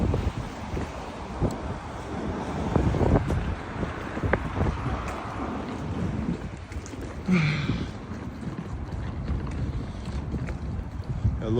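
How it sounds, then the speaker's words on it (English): Cold wind blows steadily over open water on the Gulf of Finland, a broad rushing noise with gusty buffeting against the microphone and a brief faint voice partway through. "So it's windy, and the wind is super cold, freezing."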